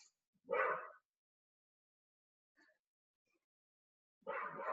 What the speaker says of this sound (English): Pardon my barking dog this time.